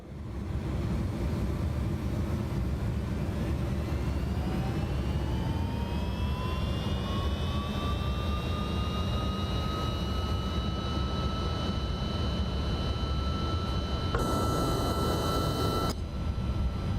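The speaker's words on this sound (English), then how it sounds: "let's go for takeoff, shall we?" A Rotate MD-11 jet in X-Plane 12 spools up for takeoff, its rising turbine whine climbing over a steady roar throughout, with a brief louder burst near the end.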